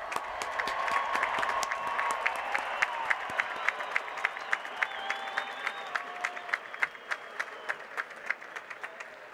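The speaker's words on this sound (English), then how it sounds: "ask the audience to once again recognize your achievement with some more applause" At the Virginia Tech Spring 2017 university commencement ceremony, a large crowd applauds in a hall. The sustained, reverberant clapping is topped by sharp, rhythmic individual claps and faint voices.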